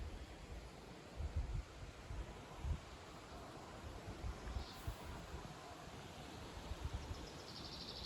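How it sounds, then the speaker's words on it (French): A sudden evening wind gusts through foliage, giving a broad, continuous rush of rustling leaves with low rumbling buffets, steady and moderately faint, with no voices. "Il y a toujours un endroit où il y a du vent encore."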